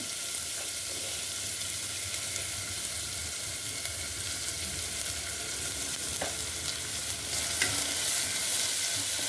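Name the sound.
onions frying with curry leaves and salt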